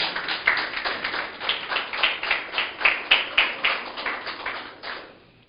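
A church congregation claps in steady rhythmic unison during a sermon, the beats sounding close and even before fading out.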